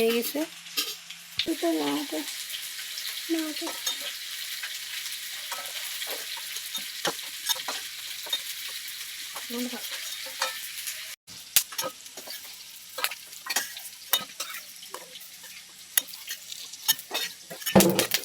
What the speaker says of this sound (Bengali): এখানে মাছের ডিমের বড়া করছি